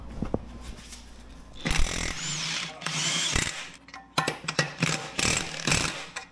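A power tool loosening lug nuts on a tire, with several close, loud whirring bursts of varying length broken by short pauses and ratcheting clicks.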